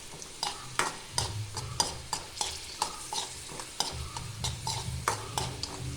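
Fish frying and sizzling in a pan, stirred with a utensil that scrapes and clatters in irregular bursts over a steady close hiss.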